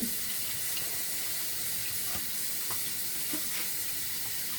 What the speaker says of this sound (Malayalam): ഇപ്പം ഞാൻ കുറച്ച് വെള്ളം സിങ്കിനകത്ത് ഇപ്പം നിറയ്ക്കാൻ പോവാണ്